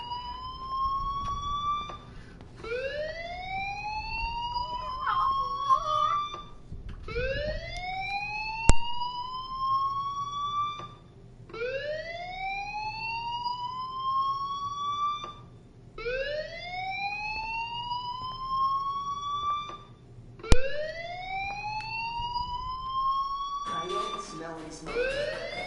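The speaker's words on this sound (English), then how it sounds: "Hey, do you hear that fire alarm?" Fire alarm in the video game Life is Strange, repeating rising electronic whoops about every four seconds, each sweep climbing in pitch, with a steady low hum underneath and a sharp click now and then.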